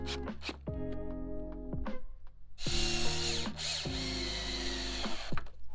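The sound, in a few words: screwing down stair tread with power drill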